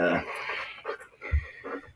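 A dog pants close by in quick, breathy huffs over about two seconds, with some rustling and faint background noise.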